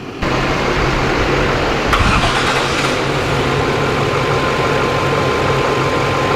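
A van engine, running off a truck's battery after a jump-start, turns over and settles into a loud, steady idle with a constant low rumble that continues throughout.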